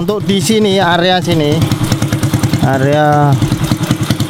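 A motorcycle engine fitted with a new Mascot piston runs steadily with a throaty exhaust, its rapid regular pulses continuous throughout while someone talks over it.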